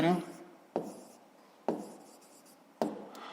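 Pen on paper during a fifth-grade math exercise: four sharp scratchy strokes, each starting with a bright attack and fading, spaced under a second apart, close and clear, with a voice briefly at the start.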